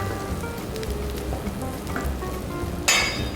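Chicken breast going into a buttered pan sets off a steady close sizzle of frying, with a brief louder burst of spitting near the end; no voices.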